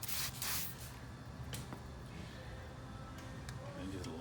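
A spray bottle of soapy alcohol mixture spritzes onto the front fender top of an Indian Challenger motorcycle during a protective film install, with several short hissing bursts, one strong early spray followed by lighter pumps in a quiet room.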